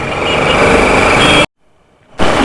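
Motorbike ridden through evening traffic on a Dombivli to Badlapur trip, a steady engine and road rumble that cuts to near silence for a moment, then returns.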